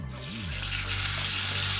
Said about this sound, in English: listen to that sizzle. That's what you want to hear.